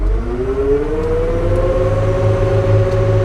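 A tractor runs a Trackless 14-foot rotary finishing mower at full throttle, its steady engine drone and rising whine holding loud and continuous, with a low rumble underneath throughout.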